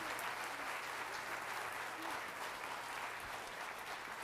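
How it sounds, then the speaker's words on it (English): A school audience gives a steady, moderately distant round of applause for the 6th grade band at a spring band concert, with some faint murmuring mixed into the dense clapping. "one more round of applause for 6th grade"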